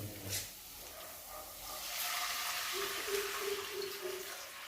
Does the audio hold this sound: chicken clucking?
no